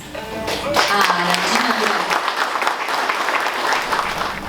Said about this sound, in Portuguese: eu quero pedir com muito carinho a todos vocês, então, uma salva de palmas